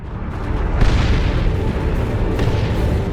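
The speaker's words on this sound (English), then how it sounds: "Launch barrage! Artillery!" Artillery barrage explosions in the Warhammer 40k Dawn of War 2: Chaos Rising video game, a loud, sustained rumbling roar of blasts that swells and holds without any voices.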